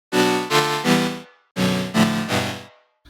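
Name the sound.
Serum saw wave chord with oscillator sync, up an octave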